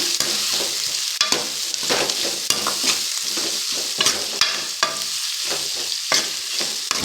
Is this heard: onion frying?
yes